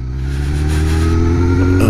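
A faulty Suzuki GSX-R 1000 motorcycle engine revs loudly and steadily at close range, a deep rumbling drone with rising harmonic tones throughout.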